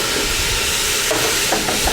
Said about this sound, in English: we want to go ahead and grab our garlic and get that in the pot